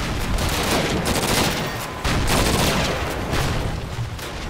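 Covering fire in the World War II video game Call of Duty: United Offensive rattles in dense, continuous bursts of rifle and machine-gun shots, loud and sustained, with a short lull near the middle.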